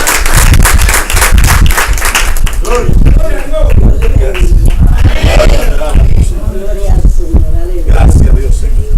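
A church congregation claps in a dense, sustained burst of applause that fills the room, loud and close, with voices calling out over it.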